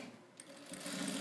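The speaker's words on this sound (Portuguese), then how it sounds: "E vou passar uma costura." A sewing machine stitches a thermal lunch bag, its motor hum steady and close, growing slightly louder and busier toward the end of the short burst, with no talking.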